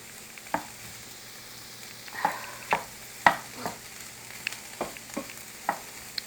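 Hamburger meat browning in a pan on the stovetop for a dairy hamburger casserole, with soft sizzling broken by repeated scraping and stirring clatters at an irregular pace, heard close and alone.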